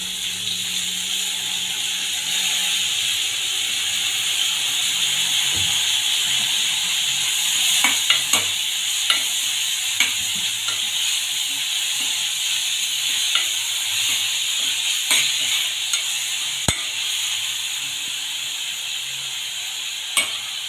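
Spinach and curry leaves fry in a pan with a steady, close sizzle and hiss, broken by scattered stirring clicks and scrapes, with no voices.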